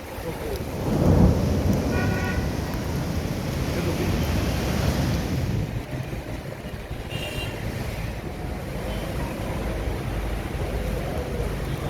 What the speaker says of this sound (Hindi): लेकिन बारिश के आपको मनाज़र दिखाता हूँ